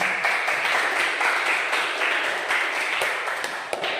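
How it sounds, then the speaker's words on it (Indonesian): Audience applause at the end of a classroom presentation, dense clapping from a room of people sustained at even volume for several seconds, with a few sharper individual claps near the end. "Aplaus semuanya"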